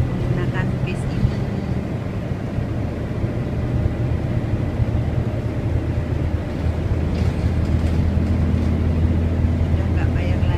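Inside a city bus riding around Tokyo, a steady low engine drone and road rumble with faint rattles and occasional higher whirs as the vehicle moves, continuous throughout.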